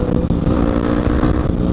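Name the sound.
dirt bike with new aftermarket exhaust riding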